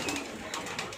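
Pigeons at a poultry farm coo softly while feeding, a brief low burbling call repeated a couple of times at close range.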